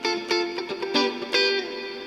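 An electric guitar plays a few chords through heavy reverb, used in rock worship music. Each strum lands roughly every half second and leaves a long, wet tail that blurs into the next.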